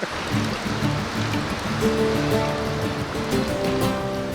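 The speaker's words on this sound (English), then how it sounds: "following the river that emerges from the cave and flows eventually into the sea" Water of a river flowing out of a cave rushes and churns continuously, a moderate steady wash with faint low tonal hum in the background and no voices.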